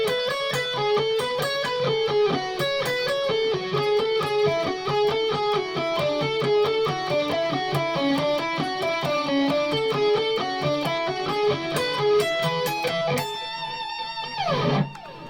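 An Ibanez electric guitar through a Neural DSP Soldano amp plugin plays a fast repeating sequence of picked and tapped notes on one string against a pedal tone, loud and close with no talk, ending in a descending slide.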